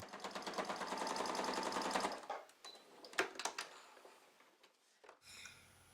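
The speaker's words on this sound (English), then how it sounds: "I will sew right along the edge of the long sides of each handle" A sewing machine stitches along the long edge of a fabric wine bag handle in a rapid, steady run for about two seconds, then stops, followed by a few soft clicks and fabric handling sounds.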